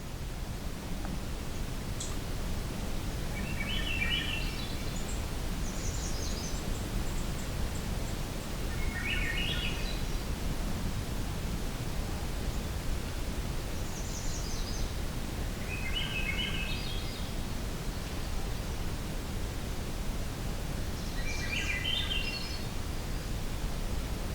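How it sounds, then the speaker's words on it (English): A magnolia warbler sings several short, high, bright phrases on a quiet evening, repeated every few seconds. The song sits faint and distant over a steady hiss of wind or rustling background noise. "We've got a magnolia warbler here again."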